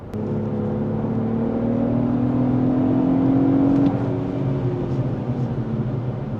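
A Lexus GX 550 SUV in Sport mode accelerates at full throttle. Its engine drone climbs steadily in pitch for about four seconds, then drops after the shift and settles into a steadier hum. The sound is close and loud, with no talking.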